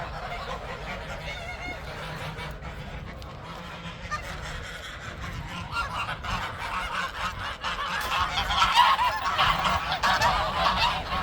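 Geese honk repeatedly and noisily at a backyard coop being opened, a busy flock calling close by, growing louder and more excited toward the end.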